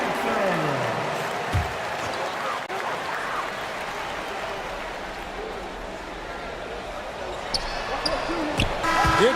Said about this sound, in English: Give a round of applause to your Timberwolves dancers